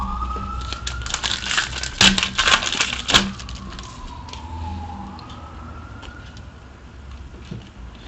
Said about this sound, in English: There's that siren again.